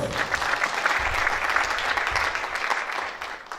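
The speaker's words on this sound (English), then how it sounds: "Can you please give them a round of applause?" Steady audience applause fills a welcome-remarks event, dense and sustained throughout before easing slightly at the end, with no voices over it.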